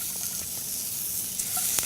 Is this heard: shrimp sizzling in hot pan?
yes